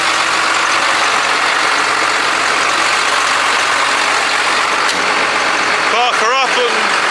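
A JCB Fastrac tractor idles while being parked, a loud, steady diesel rumble that runs unbroken throughout, with someone speaking briefly near the end.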